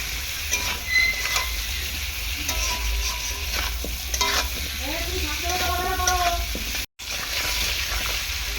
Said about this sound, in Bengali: আলুটাকে প্রথমে এরকম ভালো করে কষিয়ে নেব তিন থেকে চার মিনিট